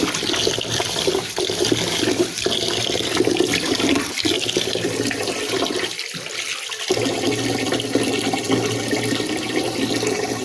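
Water sloshes and splashes steadily as broken rice is washed in a cooking pot, a continuous close, fairly loud churning with short gaps where the stirring and pouring pause.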